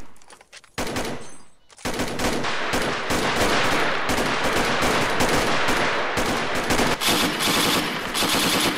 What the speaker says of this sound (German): Wir hacken mal mit dem MG ein bisschen rein